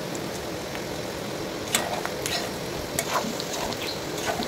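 Chicken fat scraps fry in a pan with no added oil, giving a steady low sizzle with occasional small crackles and pops.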